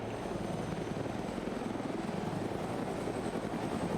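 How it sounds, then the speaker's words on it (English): Helicopter in the video game Arma 3, a steady, loud rotor and engine drone with a rapid low chopping pulse, continuous and without voices. "And the BLUFOR helicopter's over here, and now we might see some helicopter v helicopter action."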